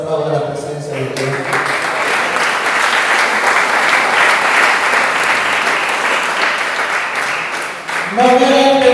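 A church congregation breaks into loud, sustained applause, a dense steady wash of clapping that fills the room for several seconds before voices return near the end.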